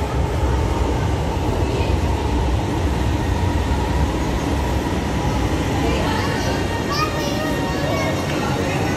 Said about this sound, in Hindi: ऑरेंज लाइन ट्रेन आने वाली है, आ गई है जी।